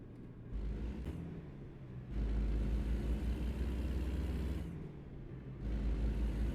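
A Kenworth truck engine in American Truck Simulator drones low and steady, swelling louder in sections as it accelerates, with heavy low rumble and brief drops between pulls.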